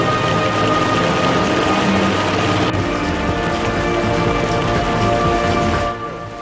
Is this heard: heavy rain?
yes